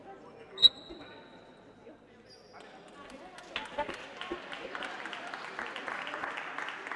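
Spectators in the stands at a women's basketball cup final start applauding. After a few quiet seconds with a ping and some thuds, the clapping builds into steady, moderately loud applause from a crowd in an indoor arena.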